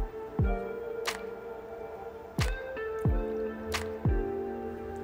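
Small tapfuls of pH down solution drip into a bucket of water: four distinct, close liquid plops land at irregular intervals, each followed by a brief ringing trickle, with no talk.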